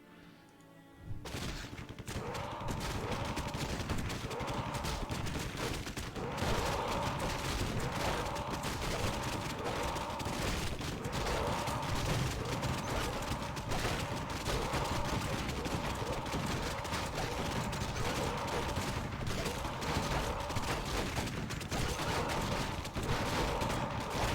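Small turrets fire nonstop in the Warcraft 3 Legion TD custom game, a dense, steady rattle of rapid gunfire and impacts that runs unbroken for over twenty seconds at even loudness.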